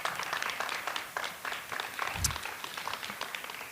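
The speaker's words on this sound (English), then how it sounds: "A big round of applause for our moderators and our timekeepers." A Board of Education candidates' forum audience claps for the moderators and timekeepers, a fairly quiet, steady patter of applause across the room with a slightly louder swell midway.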